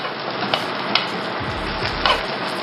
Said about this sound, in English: Now my beans, they're simmering, so I think they're just about done.